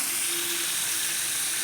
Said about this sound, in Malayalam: തിളച്ച എണ്ണയിലേക്ക് നമുക്ക് അതിന് മേലെ കൂടെ കുറച്ച് കറിവേപ്പില കൂടി ഇട്ട് കൊടുക്കാം